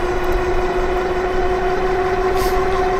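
Mukkpet Breeze dual-battery cargo e-bike motor at full throttle, a steady loud whine with a constant tonal hum and broadband rumble, unbroken throughout.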